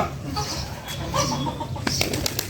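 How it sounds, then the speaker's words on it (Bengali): A pet pigeon coos and rustles nearby, with bursts of wing flapping toward the end, fairly close and moderately loud against a light background. "আর আমার এই কবুতরটা"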